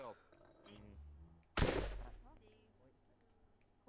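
A single sharp gunshot from a player shooting in VRChat cracks out mid-clip and decays quickly, with a voice talking faintly before it.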